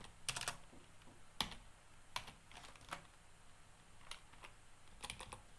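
Soft keystrokes tap on a computer keyboard in a quiet room, arriving in scattered bursts with short pauses, faint and close without any talk.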